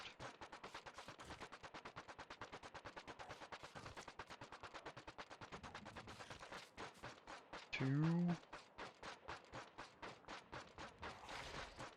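Rapid machine-gun fire at a biter in Factorio, a long run of fast, evenly spaced shots that thins into uneven bursts, with a short tonal game sound partway through and no talk.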